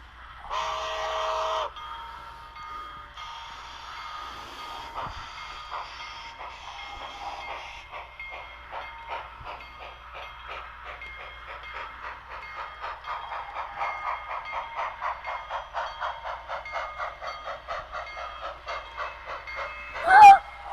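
A model railroad train runs along its track, with a steady rapid clicking of wheels over rail joints throughout, an early burst of noise at the start and a sharp knock near the end.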